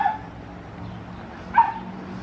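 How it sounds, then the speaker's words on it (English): A pet dog in a backyard garden gives two short, sharp yipping barks, one at the start and one after a pause, moderately close and otherwise quiet. "You can hear my dog."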